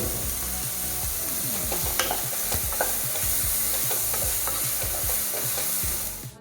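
Onions, tomato, ginger and garlic fry in a pan, giving a loud, continuous sizzle broken by repeated scraping and clacking as the mix is stirred.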